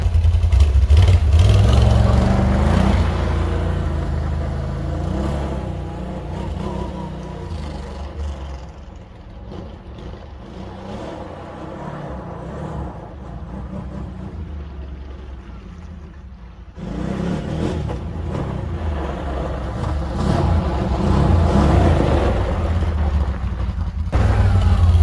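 Can-Am Outlander 850 ATV with stock exhaust running nearby, a low rumbling engine that idles quietly in the middle and rises louder at the start and end as it revs and moves off.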